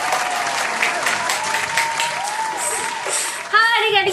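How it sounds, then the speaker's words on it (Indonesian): Children and adults at a children's church service clap for God, a dense run of applause under a singing or speaking voice, ending in a brighter burst as music or a voice cuts in. "tepuk tangan untuk Tuhan"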